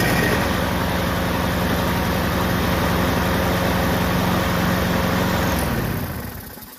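Craftsman AWD riding lawn mower engine running loud and close with a steady rumbling idle, then cutting off abruptly near the end.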